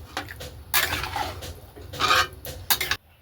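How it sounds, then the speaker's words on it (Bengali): Leftover khichdi being reheated with a little water in a wok, a metal spoon scraping and clinking against the pan in bursts with short pauses, close and fairly loud. "এই যে একটুখানি জল দিয়ে কড়াই, জলটা গরম করে খিচুড়িটা গরম করে নিচ্ছি"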